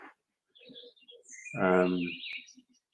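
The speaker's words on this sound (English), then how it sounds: "Can you hear the birds?" Woodland birds just beyond a wall give scattered high chirps and tweets, faint and intermittent, partly under a person talking nearby.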